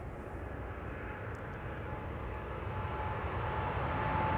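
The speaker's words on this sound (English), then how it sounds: "KLM flight 661 to Houston in Texas is rolling. 7879 Dreamliner" A KLM Boeing 787-9 Dreamliner rolls for takeoff at Schiphol, heard as a low, fairly faint engine rumble that builds gradually in volume, with a thin steady whine running through it.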